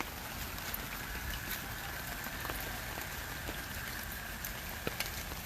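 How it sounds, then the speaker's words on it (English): Heavy rain pours steadily onto a garden, a dense hiss of drops with occasional sharper splashes, constant and even throughout with no voices. "This is my first big rain event in this new garden."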